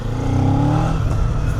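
A 2026 Kawasaki Z500 motorcycle with its 500 cc engine revs steadily, a loud, close, continuous motor tone with rising pitch and no talk over it.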